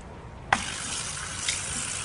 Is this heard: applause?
no